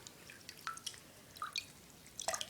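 Water drips and splashes intermittently from a washcloth being dipped while a silicone baby doll is bathed, with a few small separate drops and a brief cluster of splashes near the end.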